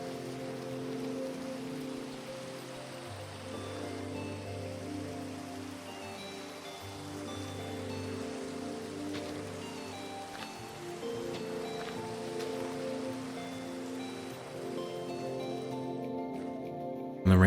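Steady rain falls in Minecraft, a continuous soft patter of drops on surfaces that holds even throughout with no talking.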